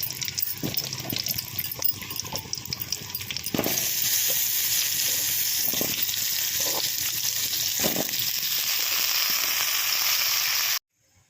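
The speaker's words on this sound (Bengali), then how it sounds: "এই তেলেই কেটে রাখা আলুগুলো ভেজে নেবো" Cut potatoes fry in hot oil left over from frying crab, a loud steady sizzle with occasional bursts and stirring clatter, then sudden quiet at the end.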